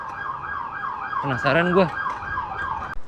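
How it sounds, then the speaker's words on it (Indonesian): A police or emergency siren wails along a street in Los Angeles. The steady, wavering tone is heard at moderate distance, and someone speaks briefly over it midway. "Ini ada sirine, polisi kemana nih?"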